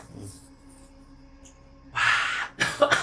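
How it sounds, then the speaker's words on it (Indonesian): After a quiet stretch, a person gives a sharp, breathy cough followed by a couple of shorter bursts, close to the microphone. "Batuk."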